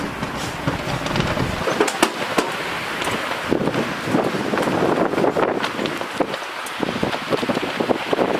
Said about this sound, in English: It's hard to talk at all in your video because it's so windy out there